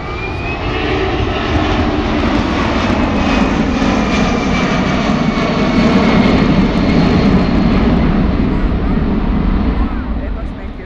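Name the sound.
C-17 Globemaster jet aircraft engines during flight demonstration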